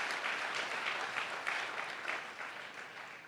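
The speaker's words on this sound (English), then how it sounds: "Can you give a very big clap from Jesus Christ?" Applause from the audience at a motivational talk event in Chennai, a steady, fairly distant wash of clapping with gentle swells, slowly tapering off.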